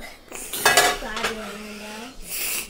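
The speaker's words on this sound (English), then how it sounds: "That's a big old pot. Can you put it on the stove or you can't?" A big, heavy cooking pot set down on a home stove, giving a couple of close metallic clanks and knocks with a brief ringing tone before a quieter shuffle.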